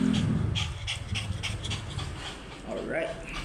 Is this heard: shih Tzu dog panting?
yes